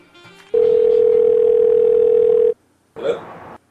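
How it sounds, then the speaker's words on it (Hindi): A telephone ringback tone plays: one long steady electronic tone, then a pause, then a shorter burst. "वकार को फोन करें।"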